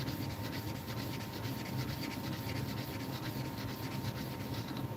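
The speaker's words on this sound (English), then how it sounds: "put it on the porcelain, put it on the sandpaper, get it nice and flat" A knife blade rubbed flat across sandpaper during sharpening, a steady rhythmic rasping scrape that continues without pause, soft and close.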